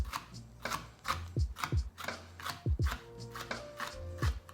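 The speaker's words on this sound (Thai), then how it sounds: "เดี๋ยวเราจะมาซอยพริกเป็นเส้นๆก่อนนะเอาไว้ตกแต่งนะครับ" A knife slices red chili peppers into thin strips on a cutting board, about two crisp strokes per second, close up with no talking.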